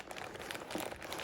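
Packaging paper crinkled while unboxing a 2021 Yale Doorman L3 door lock, a brief, close, dry rustle of steady crackling that ends in one sharper crunch.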